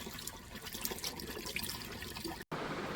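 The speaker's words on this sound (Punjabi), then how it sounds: "ਅੱਜ ਇਹਨਾਂ 'ਚ ਪਾਣੀ ਪਾਉਣੇ ਆਪਾਂ" Water trickles and splashes steadily onto potted plants for a few seconds, a close, continuous pouring sound with a brief dropout near the end.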